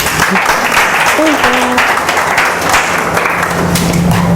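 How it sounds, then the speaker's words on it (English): A university audience applauds a student after her advisor's tribute, with steady, fairly loud clapping throughout. A voice briefly sounds under it early on. "Another big clap."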